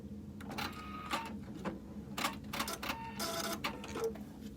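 A Husqvarna Viking sewing machine runs in short rattling bursts as it finishes a Spanish hem stitch, quiet and close with brief pauses between the needle runs.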